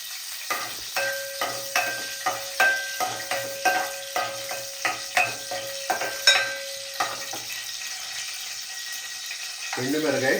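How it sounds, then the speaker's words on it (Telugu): Dried red chillies crackle and sizzle in hot oil, with repeated stirring scrapes in a steady rhythm, close and clear, tapering into a quieter sizzle. "ఆయిల్ వేడెక్కినాక ఎండుమిరకాయలు తీసుకొని"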